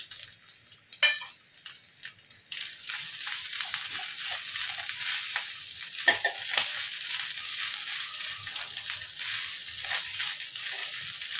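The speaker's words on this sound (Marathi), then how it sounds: "हे खोबरं जे आहे ते पूर्ण लाल होईपर्यंत आपण भाजायचं" Grated coconut roasting in a dry pan until red, heard as a constant dry crackling fry with scattered ticks and scrapes of stirring, fairly close and steady after a couple of brief knocks at the start.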